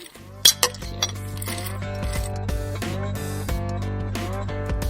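Glasses clink together in a toast during a pub podcast, several bright sharp chimes early on, then ringing tones and scattered lighter clinks over a steady background hum.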